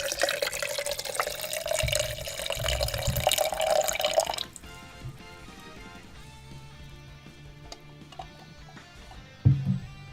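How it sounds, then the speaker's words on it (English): Gatorade, a non-carbonated sports drink, is poured from a bottle into a drinking vessel, filling with a steady, rising gurgle for about four seconds before going quiet, followed by a faint clunk near the end. "let's pour this Gatorade into a proper drinking vessel."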